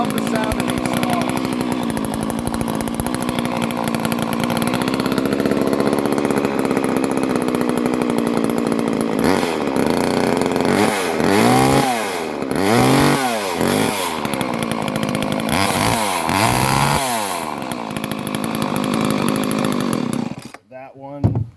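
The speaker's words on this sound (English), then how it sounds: "I love the sound of these saws." Several chainsaws run together, a loud, steady buzzing drone close by, with repeated revving swells in the middle and a sudden cutoff near the end.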